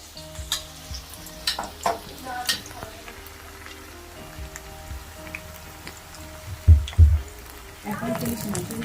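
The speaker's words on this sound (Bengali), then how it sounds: "এখন আমি ভাজবো আর গরম গরম করে সব ফ্রাই খাবে" Marinated food fries in a pan with a low crackling sizzle and occasional stirring clanks, with a few louder bumps near the end; a voice talks faintly in places.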